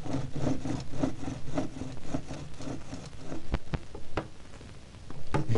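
A hand saw cuts through wood inside a garden shed, giving a close, rhythmic rasping of regular strokes that pauses midway with a few sharp knocks, then resumes.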